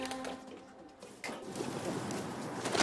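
Homing pigeons cooing in soft, low, throaty calls that repeat at close range against a quiet background, with no voices.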